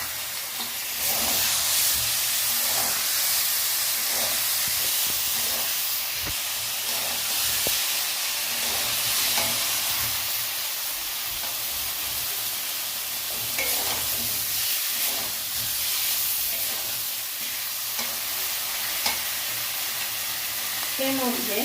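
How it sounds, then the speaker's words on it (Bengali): A paste of cumin, coriander, green chilli and ginger fries in a fish curry, giving a continuous loud sizzle and hiss with occasional stirring scrapes throughout. "এখন আমরা জিরে ধনে কাঁচা লঙ্কা আর আদা যে পেস্টটা বানিয়েছি সেটা এই মাছের ঝোলে দিয়ে নেব, দিয়ে মশলাটা কষাবো।"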